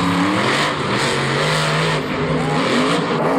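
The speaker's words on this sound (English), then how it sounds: "the truck is still firing on all cylinders" Monster truck engine at Monster Jam Orlando 2016, roaring loud and steady with rising revs and a sustained growl throughout, under a noisy stadium crowd.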